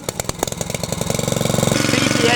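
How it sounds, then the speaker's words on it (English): A Hyundai HYYW70 petrol power weeder on wheels is recoil-started from cold and catches, its small engine settling into a steady, rapid putter that grows slightly louder and denser toward the end. "And with that done, I can pull the recoil start."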